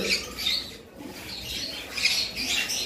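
A cream-face cockatiel gives repeated shrill squawks and chirps in short bursts, close by, with no talking.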